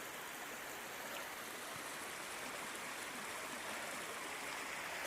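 Running water from a stream beside a campsite makes a steady, even, broadband rush. It stays unbroken and fairly soft throughout, with no voices.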